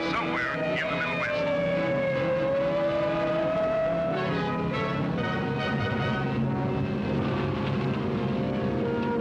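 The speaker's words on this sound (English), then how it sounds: "There's a car coming, Doc." A car approaches as a radio-drama sound effect in Mr. and Mrs. North, a loud, steady engine drone with a rising whine, swelling and shifting pitch against dense background noise, with no voices.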